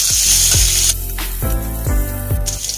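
Garlic sizzles and fries in a pan with a steady hiss, broken by a few clinks and scrapes of a utensil against the pan.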